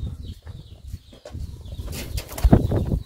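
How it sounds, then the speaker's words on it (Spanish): Wings flap close by as a bird takes off outside a house, giving quick papery flutters and soft thumps over a faint background hum, with a louder burst of flapping near the end. "Ya me va a sentar un pájaro en la cabeza."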